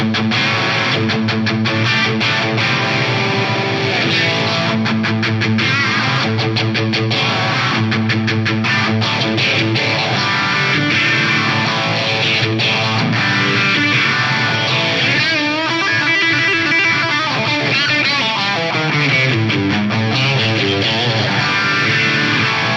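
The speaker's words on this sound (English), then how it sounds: "That sounds absolutely amazing with the reverb and delay on there" An electric guitar plays through a dirty, overdriven amp with Lexicon MPX G2 reverb and delay, loud and continuous, chords and melodic lines trailing into echoing tails.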